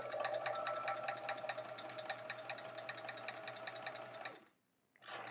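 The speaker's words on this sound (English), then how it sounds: "I should just be able to sew right straight down" Sewing machine stitching quilt pieces for half-rectangle triangle blocks, a steady rapid whirring run that stops abruptly near the end and restarts briefly, close and alone.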